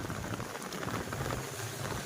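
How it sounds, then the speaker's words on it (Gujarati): Steady heavy rain pours down without a break, a dense continuous hiss with patter on surfaces during a late-season storm, close and fairly loud, with no voices. "એક કલાક થવા સતત કન્ટિન્યુ વરસાદ ચાલુ ને ચાલુ છે"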